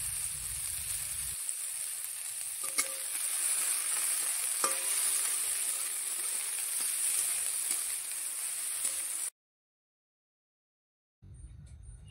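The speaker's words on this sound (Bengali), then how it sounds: "একটু ভাজা ভাজা করে নেব সবজিটা" Chopped onion, green chilli, carrot, peas and beans fry in oil for veg Maggi, a steady bright hiss with a couple of faint clicks from stirring, then a sudden stretch of silence before the sizzle returns.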